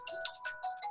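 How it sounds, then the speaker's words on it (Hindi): An incoming-call phone ringtone plays a quick, bright, repeating melodic pattern of short tones, clear and alone. "शाला जी फोन कर रहे हैं आप मुझे?"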